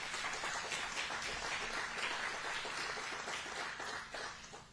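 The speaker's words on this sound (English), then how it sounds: "shamelessly fishing for applause" An audience at a groundbreaking for a new women's correctional facility gives a steady, fairly faint patter of applause that fades slightly toward the end.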